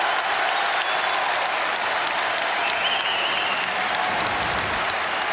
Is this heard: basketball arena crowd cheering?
yes